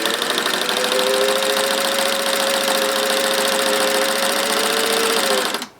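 A vintage Singer 600 Touch N Sew sewing machine runs steadily for several seconds with a continuous motorized whir and fast rhythmic needle clatter, close and loud, then cuts off abruptly at the end.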